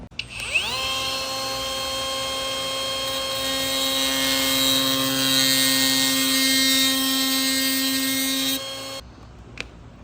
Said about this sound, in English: make 2 very small grinds with the die grinder